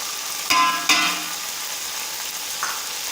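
Beef being fried with turmeric, red chili and salt for a dum biryani, a steady soft sizzle with two sharp scraping stirs near the start and a lighter clink later.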